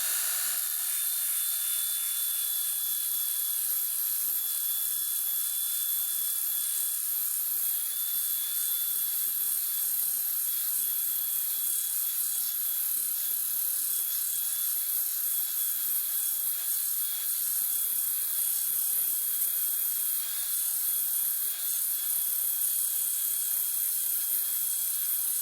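A Milwaukee M12 FUEL 1/2 x 18 inch bandfile 2482-20 grinds a metal workpiece with a steady, high-pitched whine and abrasive hiss that continues close and loud without letup, and no voices.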